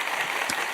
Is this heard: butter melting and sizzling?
no